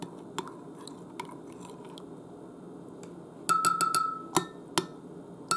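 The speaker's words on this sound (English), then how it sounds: "You can just take a little spoon and just give it a quick stir." A small spoon clinks against a glass while stirring yeast into milk, with a cluster of sharp taps and scrapes near the end following quieter, scattered knocks.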